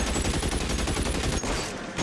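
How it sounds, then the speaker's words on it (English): Gunfire in the video game L.A. Noire: a rapid, loud burst of repeated shots, close and dense, that cuts off abruptly near the end. "Now that you're shooting at us, though"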